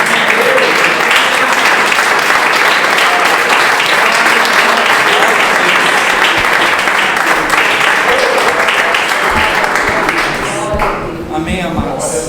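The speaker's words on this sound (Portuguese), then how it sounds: "Você pode aplaudir ao Senhor?" A church congregation applauds during a service, loud and dense clapping from many people held steady for several seconds before thinning out near the end, with some voices mixed in the crowd noise.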